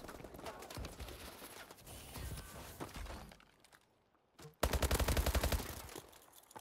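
An SN6 submachine gun fires in a first-person shooter video game, with rapid bursts of close, loud automatic gunfire, a short quiet pause, then a dense, louder sustained burst.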